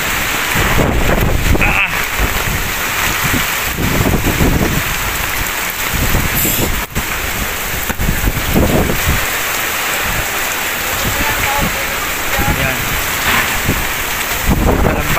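Super Typhoon Kristine lashes Bay, Laguna with heavy rain and strong gusting wind, a loud continuous roar that buffets the microphone; someone speaks briefly over the storm.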